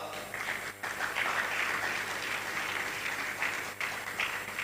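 Applause for a High Court judge at a law college inaugural dinner, a continuous, fairly distant patter of many hands clapping with no voices over it.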